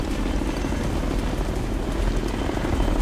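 Helicopter in the video game Ghost Recon Future Soldier, its rotor and engine drone loud and steady throughout with no talk over it.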